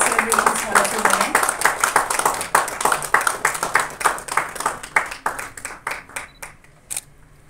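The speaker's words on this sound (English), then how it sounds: "Can you give a big round of applause celebrations for the two women?" Crowd applause at a formal forum ceremony, dense clapping at first that thins into scattered individual claps, with a voice speaking faintly beneath.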